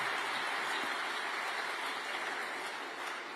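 An audience breaks into sustained, dense applause after a speech on mining industry reform, a continuous wash of clapping that holds steady and fades slightly toward the end.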